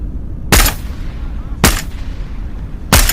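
Suppressed gunfire in the video game Into the Radius 2: three muffled shots come about a second apart, loud and punchy over a constant low background rumble.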